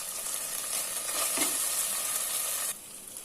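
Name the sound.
onions frying in pan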